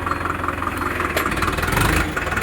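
A Digitrac PP46i tractor with a plough idling nearby, its diesel engine a steady low chugging rumble with a regular pulsing beat.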